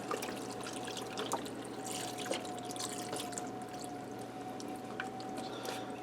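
Two cups of chicken broth poured into a Ninja Speedi pot, a steady faint trickling stream that runs throughout against a low hum, with a few soft clinks.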